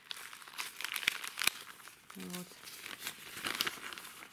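Flexible plastic plant pot bags, 0.9-litre size with drainage holes, crinkle and rustle as they are handled and stacked, close crunchy bursts coming and going while a person speaks briefly.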